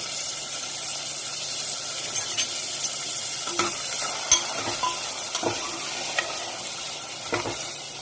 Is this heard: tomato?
yes